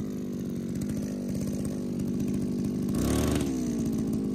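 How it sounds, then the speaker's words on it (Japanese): A handheld engine brush cutter runs at a steady buzzing idle, loud and close, then the engine revs up briefly before it settles again. No one talks. "草刈り機の刃の回転数を変化させるためには握った状態で"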